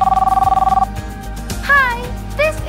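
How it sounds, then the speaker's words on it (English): A telephone rings for an incoming call with a rapid, loud trilling bell that stops after under a second, followed by brief cartoonish voice sounds. "Suddenly, I get a phone call."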